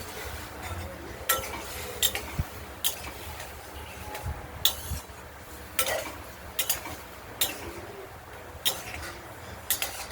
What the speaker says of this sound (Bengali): আমরা মশলাটা কষিয়ে নিই, আলু কাঁচকলার তরকারি মানে ভাজার মধ্যে দিয়ে দিয়ে ভালো করে কষিয়ে নেব